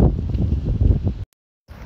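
Gusty wind buffets the microphone with a low, rumbling roar, cuts out abruptly, then returns faintly.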